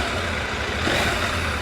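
A CFmoto 800MT motorcycle engine revs under a twist of the throttle in S mode, a brief, dense and steady mechanical roar close by with no voices.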